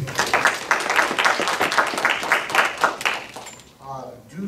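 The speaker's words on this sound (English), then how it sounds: "Give them a round of applause." An audience at a PTA/PTSA meet-the-candidates evening claps for the candidates in a brisk burst of applause lasting a few seconds. It fades out as a voice starts speaking.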